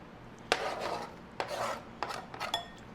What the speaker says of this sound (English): Next, I'll crush the saltine crackers, put that in